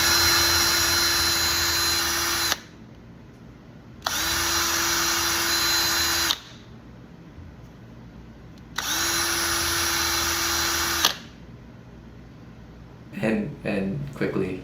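A power drill spins a micropestle to grind a leaf sample in a tube, three steady high whining runs of about two seconds each separated by quiet gaps, followed by a short burst of speech.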